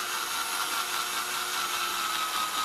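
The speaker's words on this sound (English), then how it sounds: "drill this out." A hole being drilled out slowly and gently, with little pressure, while building a Bedini SG energizer; a steady, continuous whirring and grinding holds evenly throughout with no talking.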